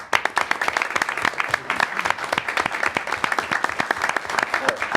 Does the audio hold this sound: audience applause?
yes